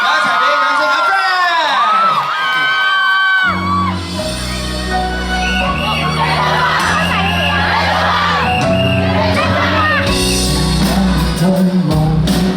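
A concert crowd cheers and whoops over loud pop music at an awards show for a TV drama theme song, voices shouting throughout, with applause mixed into the dense music.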